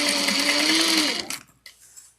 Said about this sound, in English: Take it to our sewing machine and sew it at 1/8 of an inch away from the edge.